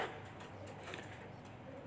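Soft, low cooing of homing pigeons at a distance, faint and muffled against a quiet background hum.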